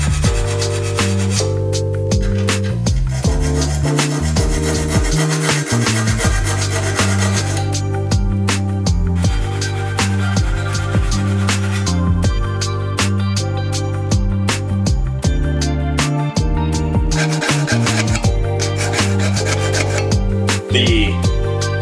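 A hand file rasps against the teeth of an antique cross cut saw in loud, steady back-and-forth strokes, each pass a harsh metallic scrape, with brief pauses between bursts.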